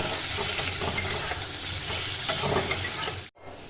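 Chopped onion and tomato frying with soft potatoes in a pan, giving a dense, steady sizzle and crackle that fills the clip at close range, then cuts off abruptly near the end.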